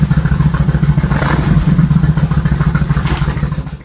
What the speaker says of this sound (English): And number 10, Kawasaki Vulcan 1500 Classic